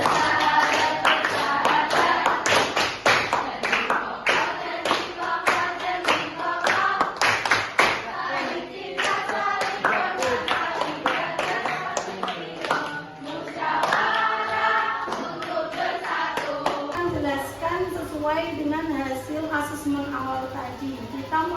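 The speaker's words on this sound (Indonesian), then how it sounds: "Mari kita bertepuk dulu, yaitu SPK tepuk sahabat." A group claps hands in a quick rhythmic pattern, repeated bursts of sharp claps mixed with voices chanting and talking along.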